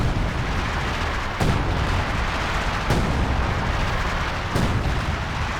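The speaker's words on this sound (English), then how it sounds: "Too scared of the major artillery." Artillery in Company of Heroes 2 fires three heavy booms spaced about a second and a half apart over a constant loud rumble of battle.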